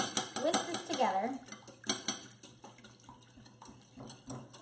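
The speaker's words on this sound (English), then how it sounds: "we're gonna whisk this together" A whisk clinks rapidly against a bowl while scone ingredients are mixed, bright metallic taps in quick bursts that fade to softer scraping, fairly close.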